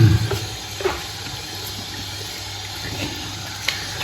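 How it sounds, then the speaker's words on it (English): A bathroom tap runs steadily into a sink that is being cleaned of beard clippings, a constant close rush of water with faint knocks and handling sounds, and no one speaking. "I just needed to clean the sink because there was a week's worth of beard in there"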